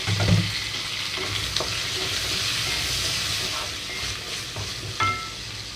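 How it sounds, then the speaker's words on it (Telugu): Tomato, potato and carrot pieces fry in hot oil in a pan for aloo kurma, with a continuous close sizzle, a thump as they land, and occasional stirring scrapes. "ఇందులోకి కట్ చేసి పెట్టుకున్న టమాటోలు అలాగే బంగాళదుంప క్యారెట్ ముక్కలు వేసేసుకుంటున్నాము"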